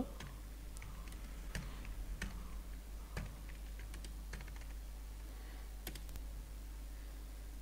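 Steady typing on a computer keyboard while entering data into an Excel spreadsheet, a run of light, close clicks and taps at an uneven pace over a low hum, with no talking.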